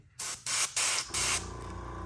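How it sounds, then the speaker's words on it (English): An airbrush sprays black paint onto a bluegill-style fishing lure in short, loud hissing bursts, three quick pulses followed by a longer steady spray, with a low background hum underneath. "Spraying pretty good."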